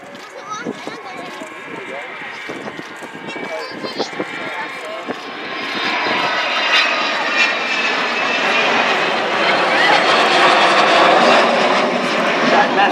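An Avro Vulcan bomber performs a flying display at the Shoreham airshow, its engine roar swelling from distant to a loud, broad rumble while a commentator talks over it.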